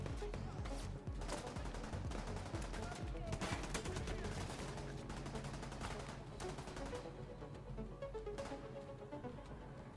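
Gunfire in The Division 2 video game: dense, rapid volleys of shots crackling almost continuously over a busy game soundtrack, loud and sustained.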